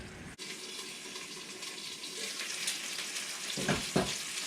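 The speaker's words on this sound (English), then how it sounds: "Of course, you can already hear it sizzling." Pot roast browning in a hot pan gives a loud, steady, broad sizzle throughout, with a couple of brief knocks near the end.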